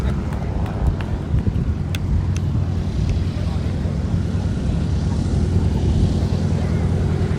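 An Extreme Air XA42 aerobatic plane at the IWM Duxford D-Day anniversary airshow drones steadily through a roll display, a constant distant engine roar blended with wind rumble on the microphone.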